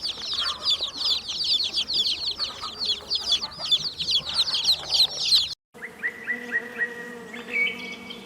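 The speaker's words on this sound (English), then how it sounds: "Chicks." A flock of chicks peeps in a busy, high chirping chorus that runs for several seconds, then cuts briefly to silence before a different farmyard sound with short repeated calls.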